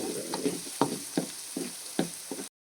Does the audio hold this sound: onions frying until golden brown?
yes